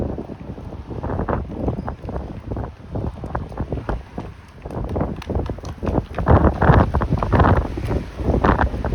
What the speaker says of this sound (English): The wind is blowing me.